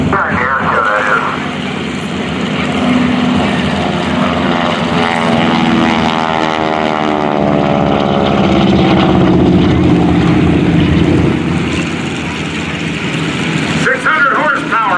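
A T-6 Texan propeller airplane with a 600-horsepower engine flies at a Navy airshow, its loud, buzzing engine and propeller drone swelling as it passes close, while voices talk throughout.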